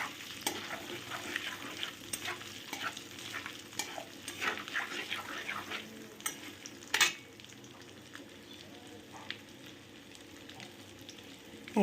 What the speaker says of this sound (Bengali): শুকনো লঙ্কা আর গোটা জিরে। ভালো করে আগে ফোড়নটা হোক,